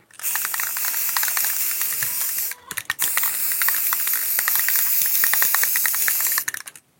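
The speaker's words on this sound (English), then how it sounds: "always make sure that you're spraying up and down" Loud continuous hissing spray in two long bursts with a brief pause between, accompanied by rapid rattling clicks.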